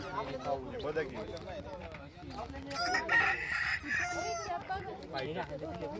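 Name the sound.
rooster crowing and chickens clucking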